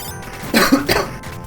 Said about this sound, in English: I have got a bit of a cold at the moment as well. So excuse my coughing.